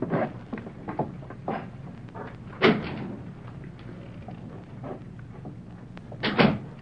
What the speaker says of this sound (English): Could have sworn I heard a board creak.